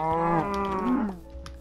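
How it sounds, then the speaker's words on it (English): A single Minecraft cow moos loudly and clearly, a long drawn-out low call that fades away at the end. "it's a cow!"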